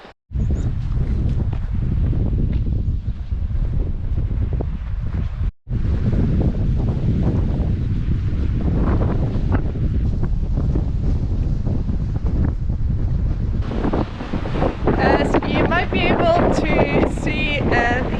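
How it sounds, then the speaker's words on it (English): Strong wind on the Isle of Skye buffets the microphone in a continuous roar, gusting throughout, with a voice speaking faintly near the end. "It's quite a windy day again today"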